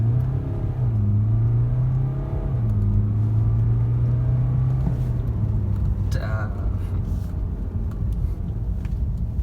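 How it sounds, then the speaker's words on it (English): A BMW car driven at full throttle up a hill, its engine drone rising steadily as it accelerates hard, a loud continuous rumble inside the cabin with a voice heard briefly partway through. "Let's put the throttle hard on once more."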